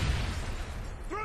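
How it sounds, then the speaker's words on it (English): A stun grenade going off in a Call of Duty match: a loud, noisy blast fills the moment and then thins out, with a brief tonal chirp near the end. "Throw your stun grenade!"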